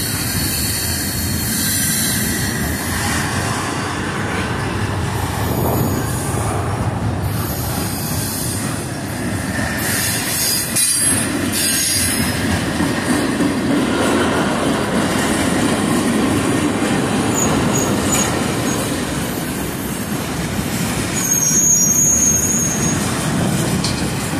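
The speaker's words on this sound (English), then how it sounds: "This is a mixed auto rack intermodal train." A mixed autorack and intermodal freight train led by two ET44AH locomotives rumbles past steadily, with continuous wheel noise, clanking cars and occasional metallic squeals, loud and close throughout.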